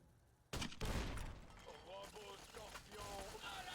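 Turrets firing in the video game Fallout New Vegas: a sudden loud burst of rapid gunfire followed by sustained mechanical shooting and whirring, with a voice talking over it.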